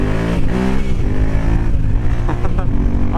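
A Yamaha Tenere 700 engine thrums steadily and close while riding on a cold tarmac section, with a rising and falling throttle and rich low pulsing harmonics.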